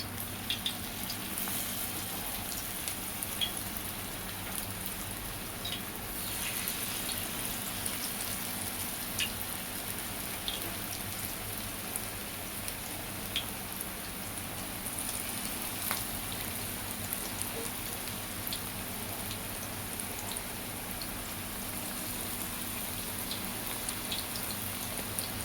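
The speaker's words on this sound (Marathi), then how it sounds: "मी तव्यावरती तेल टाकलंय. तेल तापलंय आणि मी आळू वडी सोडत आहे." Alu vadi, colocasia leaf rolls, frying in hot oil on a flat tava, giving a steady soft sizzle with fine crackling pops that holds evenly throughout, close by and with no one talking.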